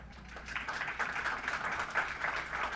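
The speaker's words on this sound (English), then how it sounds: "Allow yourself a round of applause, please" An audience at a peace conference applauds in a steady, dense wash of clapping that holds at an even level throughout, with no voices over it.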